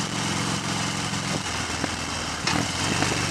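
A 2015 Harley-Davidson Fat Bob motorcycle engine drones steadily while riding, a low, continuous rumble with a broad rushing wash of wind and road noise over it, holding fairly constant with a slight surge near the end.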